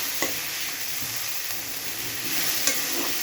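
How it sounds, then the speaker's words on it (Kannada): Semolina upma frying and being stirred in a pan, a steady close sizzle with a few sharp spatula scrapes against the metal, no voices. "ಇದು ಚೆನ್ನಾಗಿ ಫ್ರೈ ಆಗಬೇಕು."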